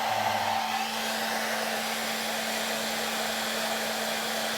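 A hair dryer blows at full power, a steady airy roar with a constant motor whine, running unbroken from start to finish.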